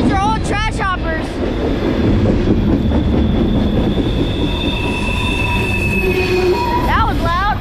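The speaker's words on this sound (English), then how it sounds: "this is a long cut of garbage cars" Long freight train of garbage hopper cars rolling loudly past Saint Denis near Halethorpe, Maryland, a steady close rumble and rail roar with high wheel squeals at the start and near the end.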